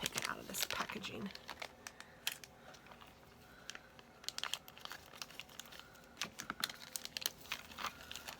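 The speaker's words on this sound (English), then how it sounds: "Let me just take it out of this packaging" Glitter drops in the Fairy Wings color being pulled from crinkly plastic packaging, with close, sharp bursts of crumpling and crackling in irregular clusters over quiet room tone.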